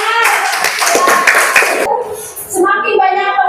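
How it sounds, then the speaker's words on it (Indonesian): A classroom group of children claps in brisk, scattered applause for nearly two seconds, then stops as young voices take over. "Iya betul, tepuk tangan."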